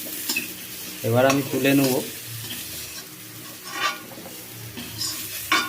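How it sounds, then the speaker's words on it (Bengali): Pumpkin and mixed vegetables frying in hot oil while being stirred in a pan, a steady sizzle under scraping spatula strokes, close by, with someone briefly speaking over it. "কুমড়োগুলোকে নেড়ে নেব।"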